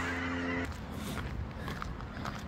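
Honking calls of ducks flying off a lake over a steady low rumble, a harsh harmonic call at first followed by scattered fainter squawks and flutter.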